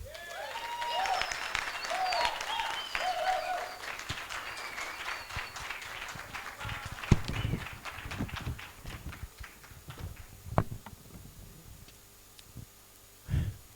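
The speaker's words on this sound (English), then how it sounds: "Let's give her another round of applause." An audience claps after a speech at a symposium. Applause builds early and thins into scattered, uneven claps with a few sharp louder hits, while whistles or cheers rise over the clapping at the start.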